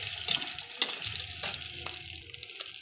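Cumin seeds frying in a little oil as they are stirred, a soft close sizzle with scattered scrapes and one sharp clink of the spoon against the pan.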